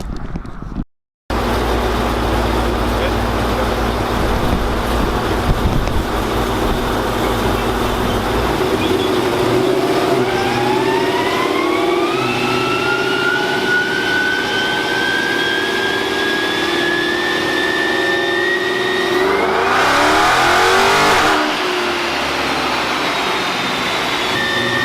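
A Hemi V8 in a Chrysler 300 being tuned roars loudly and steadily for most of the stretch, with the pitch climbing through sustained revs and surging near the end before dropping away.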